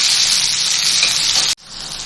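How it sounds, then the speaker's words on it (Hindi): Chopped tomatoes sizzle loudly and steadily in a hot pan, a close, bright frying hiss that drops out abruptly as the pan is covered, then continues muffled and quieter. "और अब मैं टमाटरों को गलने के लिए रख दूँगी इसको कवर करके।"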